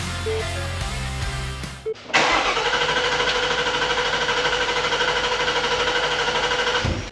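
A 2021 Ford Mustang Mach 1 under rebuild cranks without firing after a fuel pump replacement: a brief knock, then a steady, loud, rapid mechanical churning of the starter turning the engine over for several seconds, close by, without speech.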